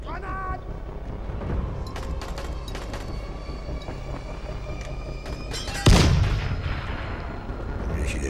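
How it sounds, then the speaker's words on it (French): In the zombie game Dying Light, rapid gunfire rattles on against a steady background, then a grenade explosion bursts loud and sudden near the end, with voices mixed into the action. "Grenade!"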